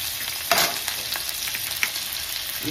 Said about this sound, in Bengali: আদাটা একটু হালকা ভাজা ভাজা করে নেব